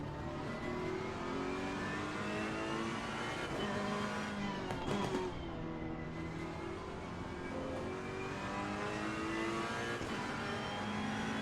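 Ferrari 488 GT3 race car engine in Assetto Corsa Competizione, a steady high-revving drone with rising and falling gear-change harmonics, loud and continuous with no talking.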